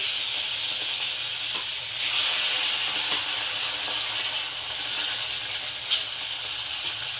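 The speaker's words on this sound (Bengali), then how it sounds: "তো মাছগুলো একটু ভাজতে দেব" Bangra fish fry in hot mustard oil with a close, steady sizzle and hiss, swelling slightly now and then, with no talking.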